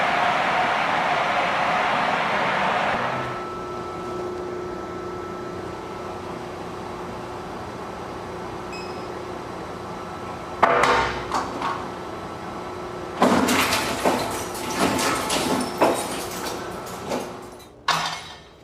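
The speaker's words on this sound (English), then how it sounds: "The disks are completely wiped and then destroyed in a huge shredder." Hard drives destroyed in a huge industrial shredder at a Google data center, a steady machine drone broken by loud bursts of grinding and crunching that arrive in clusters toward the end.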